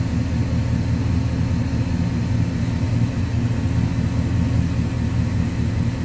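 A 2005 Dodge Ram 1500 engine idles steadily after a fuel pump replacement, a close, even low rumble that holds unchanged with no voices.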